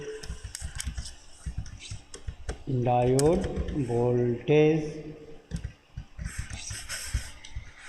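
Computer keyboard typing while working in MATLAB/Simulink: a run of soft, quick key clicks running beneath a voice that talks throughout.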